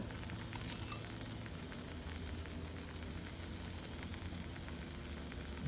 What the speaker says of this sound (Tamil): நெய் விடுங்க.